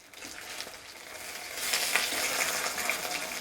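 Food frying in a pan just after being flipped, a steady sizzle that swells louder about halfway through and then holds, with faint crackles and no talking.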